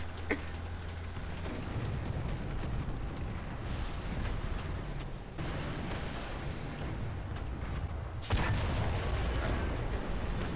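A KV-2 tank cannon fires in War Thunder, landing as a few heavy, sharp booms spaced several seconds apart over a constant low engine and wind rumble.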